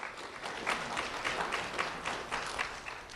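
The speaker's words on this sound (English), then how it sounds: "Round of applause for Juan Ramirez." Steady applause from a group at an award presentation, a dense patter of many hands clapping at moderate volume throughout.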